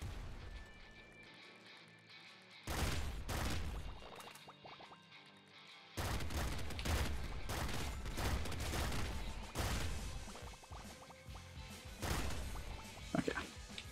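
Explosive assault rifle fire in the game Nuclear Throne comes in loud bursts of rapid shots and blasts, separated by short quieter gaps, with game sounds underneath.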